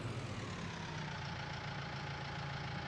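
Tractor engine in the video game Farming Simulator 19 idling with a steady, low rumbling drone and faint mechanical knock, constant and moderately loud with no speech.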